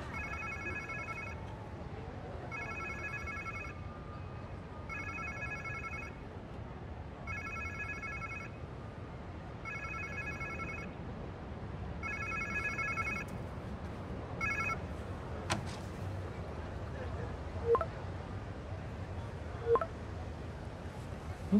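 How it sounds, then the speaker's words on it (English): A phone rings in the Spider-Man 2 video game on PS5, a repeating electronic trill in regular bursts about every two and a half seconds, followed by a few scattered clicks and thumps once the ringing stops. "Sounds like somebody's phone."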